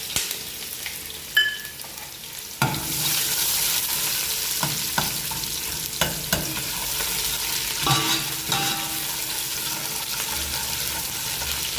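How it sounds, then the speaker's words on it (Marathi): Cumin seeds crackle in hot oil before chopped onion drops into the pan with a sudden loud burst of sizzling, which settles into a steady close fry marked by scattered pops and stirring scrapes. "जिरे टाकल्यानंतर लगेच आपल्याला कांदा टाकायचा आहे"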